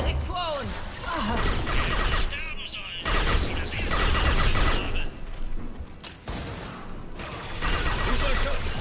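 Gunfire in Mass Effect 2 Legendary Edition rattles in dense bursts across the clip, with loud crashes and booms mixed in, under game effects and some talk.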